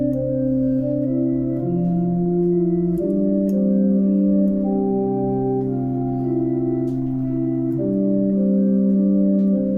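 Keyboard playing the hymn Alleluia! Sing to Jesus: sustained chords moving steadily beneath a melody line, even and full in volume, no voices.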